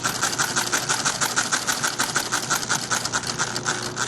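A sewing machine stitches steadily with its stitch width set by a knee lever, a fast even mechanical chatter of repeated needle strokes, close and continuous with no talk.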